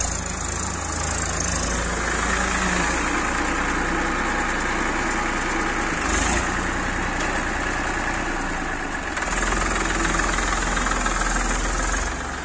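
A tractor engine runs for threshing paddy, a loud, steady diesel rumble with a knocking idle and constant vibration and mechanical whine, close by and uninterrupted for the whole stretch.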